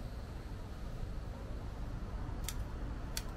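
Two quick, crisp snips sound near the end as an oakleaf hydrangea cutting is trimmed, set against a steady, soft background hiss.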